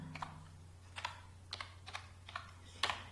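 Keys pressed at an unhurried pace on a computer keyboard while an SQL command is entered, about seven distinct clicks spaced roughly half a second apart over a steady low hum, with no talking.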